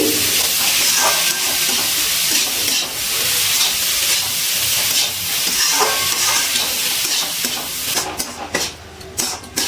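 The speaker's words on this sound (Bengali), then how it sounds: "এবার ভালো করে মশলার সাথে গ্রেট করা মূলোটা নাড়াচাড়া করে মিশিয়ে নিচ্ছি" Grated radish with spices being stirred in a pan over a high gas flame, a loud, dense sizzle with steady hiss and scraping stirs, a few utensil clinks near the end, no voices.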